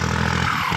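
Brief burst of a Kubota M6240 tractor's heavy diesel engine revving, roaring steadily, close and loud, with a rough low rumble.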